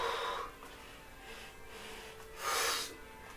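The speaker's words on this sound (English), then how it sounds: "I'll sniff this book." A person sniffs a book up close, taking a couple of breathy inhalations with a pause between them, quiet and airy.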